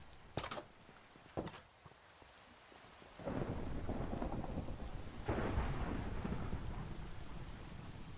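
Thunder and rain in Minecraft: a couple of sharp cracks up front, then rolling thunder swells over steady rainfall, with a second heavy rumble later, loud and close without any talk.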